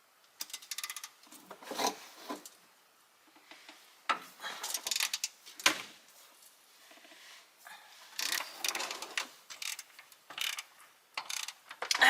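Ratchet wrench working loose the steering box bolts on a 2005 Cummins truck, irregular bursts of clicking and scraping metal close by, with short pauses between runs.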